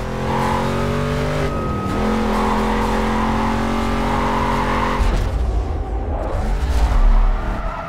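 Car drifting in the NFS Carbon video game, with a loud high-revving engine whose pitch dips and climbs as it shifts, and tire squeal and skidding building toward the end.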